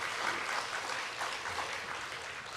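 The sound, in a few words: congregation applauding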